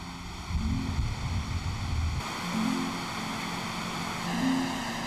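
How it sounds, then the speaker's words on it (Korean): Waterfall dropping from a 70 m cliff in a valley of Alamala National Park near Cappadocia, Turkey, a steady broad rushing roar of falling water with low rumbling surges, continuous throughout. "폭포의 시원한 물소리가 울려 퍼지는 이곳에서 여행객의 발걸음이 잠시 쉬어간다"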